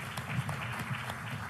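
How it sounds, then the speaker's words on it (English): Gala dinner audience at a CEO forum applauding panelists, a short burst of moderate clapping with a low murmur of voices underneath. "Let's give them a round of applause."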